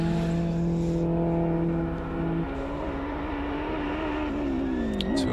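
A Honda front-wheel-drive race car charges up the Simola hillclimb course, its engine holding a loud steady drone with pitch shifts as it changes gear, heard from nearby.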